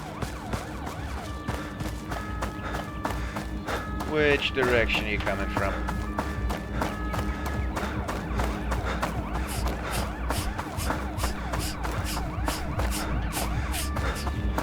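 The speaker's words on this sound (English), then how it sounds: "So, when the sirens are on, they have a high chance of spotting you and stopping." A wailing siren in the video game Road to Vostok rises and falls under steady engine rumble, with a voice speaking briefly partway through.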